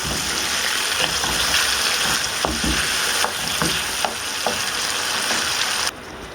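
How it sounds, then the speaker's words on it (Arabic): Tomatoes sizzle steadily in hot oil in a pan while being stirred, with clicks and scrapes of the utensil, before the sizzle drops suddenly near the end. "نقعد نقلب في البندوره لحد ما اللي هو تستوي او تتحمر كده من على الجنبين بتوعها"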